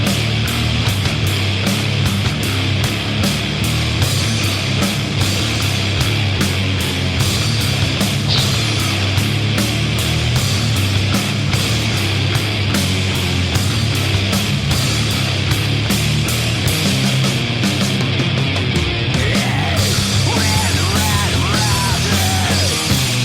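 A loud, dense stretch of band music played as a featured riff of the week, with full-band instrumentation running continuously with no speech.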